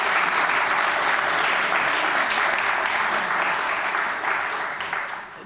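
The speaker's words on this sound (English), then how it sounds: "Yeah, you can applaud." A large audience at a debate in Amsterdam applauds in a dense, sustained wash of clapping that holds steady and loud for several seconds before it starts to thin out.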